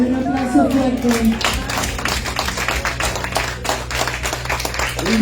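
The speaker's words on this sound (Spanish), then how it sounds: "Dale un aplauso fuerte." A church congregation at a Spanish-language prayer service claps in loud, dense applause, with a voice speaking over the start and end of the clapping.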